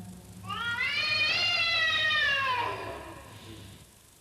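Single long drawn-out cat meow, rising and then falling in pitch, clear and close over a quiet background hum.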